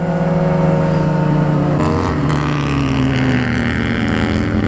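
A Harley-Davidson Dyna motorcycle engine rumbles loud and close, a deep steady drone with a pitch shift midway as the revs change, no talk over it.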